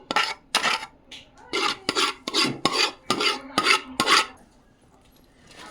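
Fried cauliflower is stirred into Gobi Manchurian sauce with about ten close, rhythmic scraping and rasping strokes against the pan, each one short and gritty, tapering off to quiet at the end.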